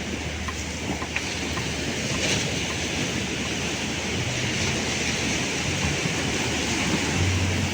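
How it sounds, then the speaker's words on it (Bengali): Sea waves roar onto an empty beach, a loud continuous wash of surf with gusty wind buffeting the microphone and no voices. "শুধু সমুদ্রের দেখো আমরা গর্জন শুনছি"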